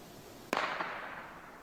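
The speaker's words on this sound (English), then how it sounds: "I think there was like a gunshot or something." A single sharp gunshot cracks from a forest, fairly distant, followed by a brief echo trailing off over about a second.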